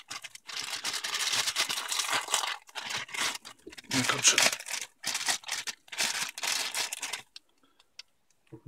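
A black plastic bag is unwrapped from an unboxing package, loud crinkling and tearing in several bursts with brief pauses, ending in near silence.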